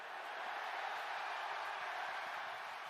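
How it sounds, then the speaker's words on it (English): Stadium crowd roar at a Colts versus Ravens NFL game in Baltimore, a steady, dense wash of distant cheering and noise without distinct voices, fairly faint and unbroken. "This crowd noise is not going to help"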